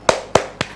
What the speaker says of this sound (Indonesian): Yuk, begini tepuk ikan ya.